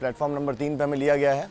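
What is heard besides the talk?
No distinct noise like a dog, phone or traffic.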